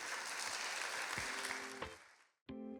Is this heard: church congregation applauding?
yes